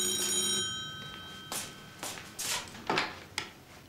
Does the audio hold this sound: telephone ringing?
yes